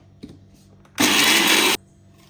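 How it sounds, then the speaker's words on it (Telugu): A mixer grinder whirs loudly for under a second, grinding roasted lentils and spices for a Telugu coriander chutney, with quiet kitchen sounds before and after. "పప్పులు కూడా వేసి ఒక్కసారి మిక్సీ పట్టేసుకుందాం."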